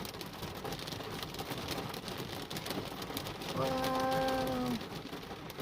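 Steady rain falls outside on a rainy day, a continuous close hiss of drops that swells slightly louder near the end, while a brief tonal voice or bird-like sound rises over it.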